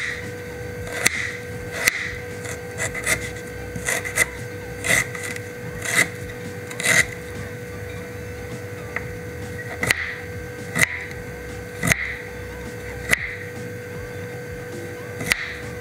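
Knife blade chopping prawns finely on a cutting board for prawn vadai, a steady run of crisp, close taps roughly once a second over a quiet kitchen background.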